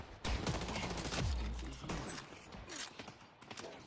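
Rapid gunfire from a fast-shooting gun in the video game Deadlock, a dense burst of quick shots with mechanical clicks, loud and close, fading into scattered shots later.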